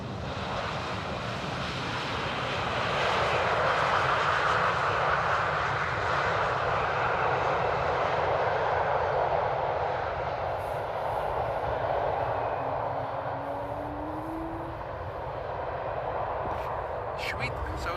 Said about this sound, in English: those people probably didn't even feel that nose gear touchdown